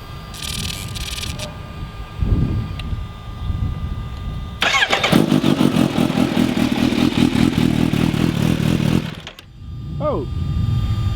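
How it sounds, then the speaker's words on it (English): A superbike with an Akrapovic exhaust, one of a Kawasaki H2, Yamaha R1M, Ducati 1199 Panigale R and BMW HP4 line-up, cranks and fires into a loud, close, rough roar that holds for about five seconds before cutting off. Talk and clicks come before and after. "So let's hear how these bikes sound, huh?"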